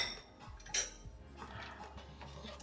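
A spoon clinks and scrapes against a pot while Jamaican red peas soup is stirred, with a few soft metallic knocks and one brighter clink standing out over a low, steady kitchen background.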